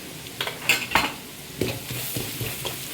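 Elephant foot yam stir-fry being stirred in a pan, with a spatula scraping and clinking against the metal in several uneven strokes over a soft, steady sizzle.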